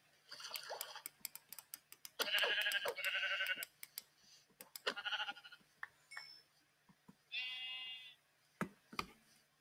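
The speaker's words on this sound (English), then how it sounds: "Alright, sheep number two." Sheep bleat in a blocky video game, several clear calls spread out with short quiet gaps, mixed with sharp clicks and knocking sounds close up.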